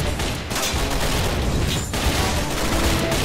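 Dense gunfire rattles through a battle in the video game Men of War, with overlapping bursts and shots crackling loud and nonstop, alone and with no talk.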